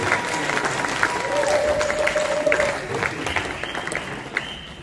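Applause from a church congregation at a couples' day service, with steady, fairly dense clapping and a few crowd voices rising above it before it eases off.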